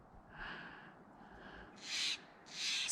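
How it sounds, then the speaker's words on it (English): Harsh, raspy blue jay squawks outdoors in an open landscape with grazing elk, two loud bursts near the end following fainter calls, with no talking. "We've got a noisy blue jay up there."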